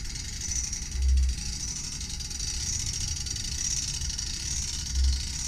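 Cummins NT855 diesel test engine running after a starter test, a steady mid-pitched idle with a high whine on top and two brief low thumps or surges, close and alone.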